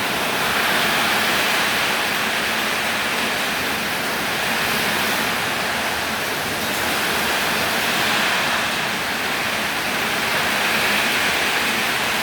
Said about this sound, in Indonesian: terus gue kaget kok hujannya sekencang ini gitu loh